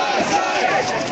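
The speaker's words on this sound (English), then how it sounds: "we do have reaction from the crowd towards the police, basically saying they want police, not assassins" A dense protest crowd shouts toward police, a loud, continuous roar of many voices with no single speaker standing out.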